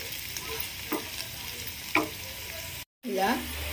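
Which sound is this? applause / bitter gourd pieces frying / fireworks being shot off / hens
bitter gourd pieces frying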